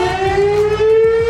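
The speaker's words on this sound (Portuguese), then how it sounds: "tu tá no avião e vem uma sirene de queda de avião" A plane crash warning siren wails loudly and alone in one sustained, slowly rising tone.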